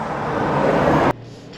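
A 2024 GMC Sierra 1500 AT4X truck with a Duramax diesel engine makes loud, broad driving noise up close, then cuts sharply to a much quieter hum after about a second.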